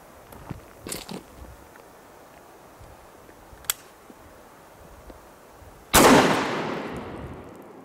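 A single Kel-Tec KSG 12 gauge pump shotgun blast fired at a board target, a sharp loud crack with a decaying tail, preceded by a few faint clicks and taps in an otherwise quiet outdoor setting.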